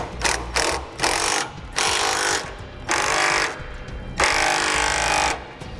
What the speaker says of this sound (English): going to tighten my bracket that's going to my frame